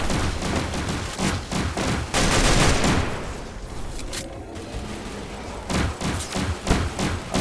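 Shotgun blasts and other gunfire ring out in the Zombie Hunt mode of Garena Free Fire Max, a dense run of loud, repeated booming shots with short gaps between bursts.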